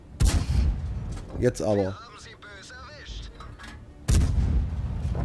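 Tank cannon shots in World of Tanks fired from a P26/40, two heavy booming blasts at the start and near the end, with someone speaking between them.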